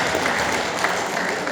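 An audience claps steadily through the whole short stretch at a talk about Petta Daeng Makkuling, a dense, even patter of many hands with no pauses.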